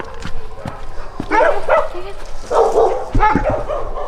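Several video game dogs bark and yip in short bursts, some sharp and some whimpering, with a little speech mixed in.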